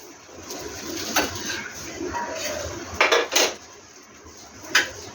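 Plates and dishes clink and clatter in a home kitchen as rice is served, with a few sharper knocks standing out over steady low household noise, and a faint voice in the background.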